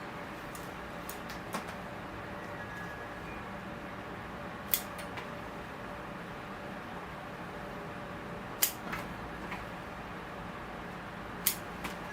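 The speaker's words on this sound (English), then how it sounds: "You can see the blue scissors are more ruthless. You just kind of cut through everything" Occasional crisp snips of scissors pruning branches of a Natal fig bonsai, spaced several seconds apart, over a quiet steady background hum.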